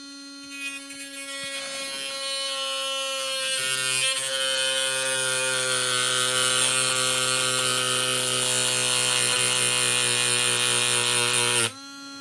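A power tool cuts through stainless steel screws with a steady, high-pitched whine that rises in pitch partway through, holds, then cuts off abruptly.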